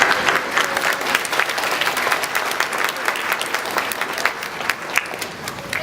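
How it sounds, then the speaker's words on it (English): A graduation audience at a college ceremony applauds graduates' families and friends with steady, dense clapping from many hands, filling the room at an even level from start to finish. "I want to give you a round of applause"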